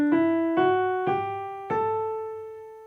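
Four notes of a C natural minor scale sound one after another at a steady, unhurried pace, each struck cleanly and left to ring and fade, close and solo with no voices.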